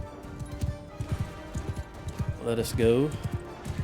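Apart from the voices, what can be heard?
horse hooves in video game Mount & Blade II Bannerlord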